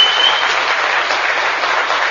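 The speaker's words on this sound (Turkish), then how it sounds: "Onlara kocaman bir alkış gönderelim." A crowd at a Turkish evening show gives a big round of applause for mothers, an even, continuous clapping wash that holds steady throughout.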